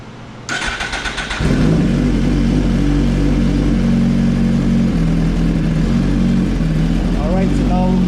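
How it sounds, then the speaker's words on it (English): A motorcycle engine cranks briefly, then catches and settles into a loud, steady idle, running close by with a firm low rumble. "the bike is running"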